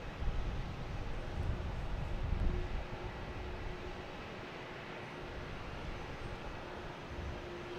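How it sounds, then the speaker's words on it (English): A Japan Airlines airliner comes in to land at Boston Logan Airport, heard as a steady, distant broadband roar that swells slightly at first and then holds evenly, with no voices. "Japan Airlines coming in"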